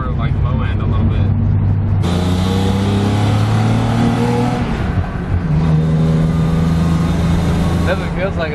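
A BMW 318i fitted with E36 M3 camshafts accelerating under part throttle, its engine note climbing in pitch through the gears, heard from inside the car, loud and continuous.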